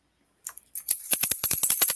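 A bunch of keys shaken as a game-show buzzer, jingling in a quick run of sharp metallic clinks that start sparse and then come in a steady rapid rattle, close and clear with no talk.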